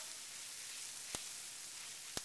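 Peppers simmering and being stirred in a pot of near-boiling water give a steady, soft broadband sizzle with two brief sharp clicks of a utensil against the pot.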